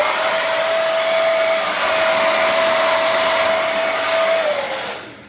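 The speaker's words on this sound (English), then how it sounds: "And I'm also going to zap it with the hair dryer." A hair dryer blows close and loud on teased hair being set after hairspray, a steady whirring roar with a whining tone that holds for several seconds, then winds down and cuts off.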